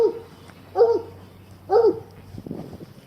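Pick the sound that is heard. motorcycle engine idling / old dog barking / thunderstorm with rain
old dog barking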